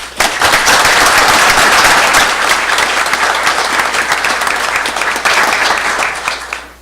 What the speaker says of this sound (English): So if we could all give Drew Bessinger a round of applause